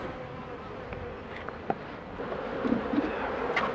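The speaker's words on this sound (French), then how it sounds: "Là, il y a encore quelques abeilles." Honeybees buzz around a water trough in an apiary, a thin close hum with individual insects droning past, quiet and continuous with no talk.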